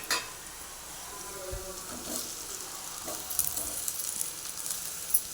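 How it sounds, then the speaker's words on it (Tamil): Boiled, mashed potatoes tipped into hot oil with golden-browned onions in a frying pan for wheat-flour samosa filling, a low continuous sizzle with a few soft scraping stirs, near and without talk. "இப்போ நம்ம உருளைக்கிழங்க போட்டுக்கலாம்."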